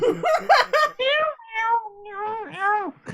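A pet cat meows in a series of drawn-out, rising and falling calls, close and fairly loud, with a few short vocal sounds at the start and no clear speech.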